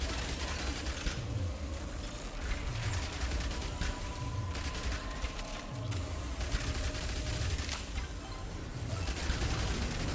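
Submachine gun fire rattles continuously in a zombie survivors video game, a steady dense stream of rapid shots with mechanical clatter underneath, holding at an even loudness throughout.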